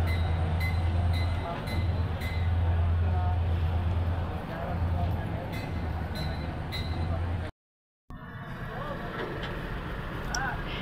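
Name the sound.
train passing on adjacent line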